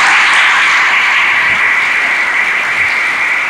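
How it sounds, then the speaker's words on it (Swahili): A church congregation applauds for Jesus during a sermon, a dense, steady wash of loud clapping from many hands that slowly eases over a few seconds, with no voices above it. "Si tumpigie Yesu makofi."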